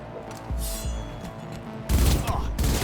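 Gunfire from the Cyberpunk 2077 video game: a few muffled shots and thumps, then a denser, louder burst of rapid fire in the final second.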